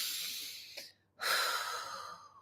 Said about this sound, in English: Let's take a deep breath.